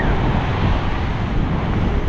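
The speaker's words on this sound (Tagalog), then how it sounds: "Mas lalong lumakas ang alon." Strong ocean waves crash and roar continuously at the shore in the evening, a loud, dense surf wash with wind noise buffeting the microphone throughout.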